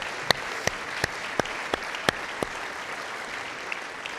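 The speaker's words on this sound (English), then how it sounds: "And we're just going to give them a round of applause." An audience applauds the strategic leadership team of San Jac College, a broad crowd hiss carrying some sharper claps that stand out near and clear. The applause is steady and fairly quiet, without voices.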